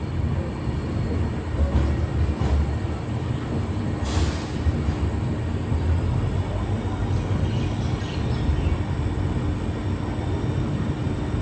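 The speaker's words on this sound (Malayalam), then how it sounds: "പൂനെയിൽ നിന്നും 1173 കിലോമീറ്റർ യാത്ര ചെയ്ത് ട്രെയിൻ ഇപ്പോൾ ഷൊർണൂർ ജംഗ്ഷനിലേക്ക് എത്തിയിരിക്കുകയാണ്" Poorna Express train pulling into Shoranur Junction after its run from Pune, a steady loud rumble of rolling wheels and carriages that holds throughout, with a brief brighter squeal partway through.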